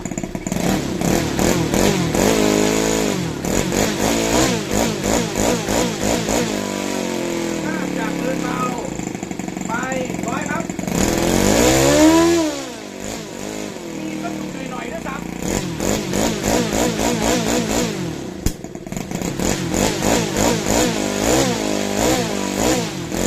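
OS 155 model aircraft glow engine with fuel pump running continuously near the microphone, a loud, buzzy high-revving drone with a brief rise and fall in pitch midway, while someone talks over it.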